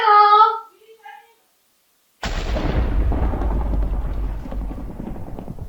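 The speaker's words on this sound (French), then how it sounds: "Il y a encore un éclair qui a frappé près de moi." A lightning bolt strikes nearby in a sandbox survival video game while the player sails in a small boat, a sudden loud crack dropping into a dense, rumbling roar that lingers for several seconds. A brief voice is heard first, followed by a moment of silence.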